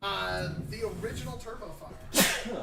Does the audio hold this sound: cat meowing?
no